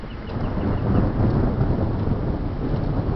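A deep, continuous roll of thunder rumbles through a thunderstorm in East Haven, mixed with rain and wind buffeting the microphone.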